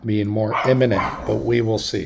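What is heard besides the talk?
dogs barking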